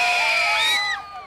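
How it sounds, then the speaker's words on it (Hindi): Concert crowd in Pakistan cheering and shouting loudly, a dense high-pitched wave of voices that fades slightly toward the end of a short burst. "बहुत सारी तालियां, जोश चाहिए, जोश चाहिए"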